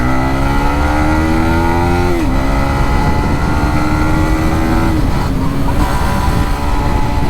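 A stolen motorcycle is ridden away down a street with speed breakers, its engine droning loud and continuous close by, the pitch climbing then dropping sharply twice as gears shift.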